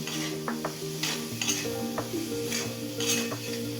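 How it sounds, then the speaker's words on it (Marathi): Potato bhaji with coriander being stirred in a pan, giving repeated spoon scrapes and clinks against metal over a gentle steady sizzle, close and fairly loud. "पुन्हा एकदा भाजी छान अशी हलवून घ्यायची आहे"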